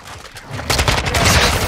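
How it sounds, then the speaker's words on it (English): Gunfire in Call of Duty MW2 on the Shipment map, aimed at a mine: after a short quieter lead-in, a loud, rapid fusillade of close shots rattles on continuously to the end. "I'm just trying to shoot that mine"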